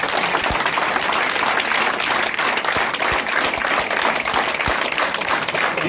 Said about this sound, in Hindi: एक बार जोरदार ताली के साथ होगा।